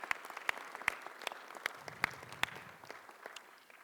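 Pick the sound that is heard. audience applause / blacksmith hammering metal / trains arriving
audience applause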